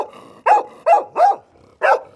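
Four loud, sharp dog barks at the postman, close by, spaced unevenly with short silences between them.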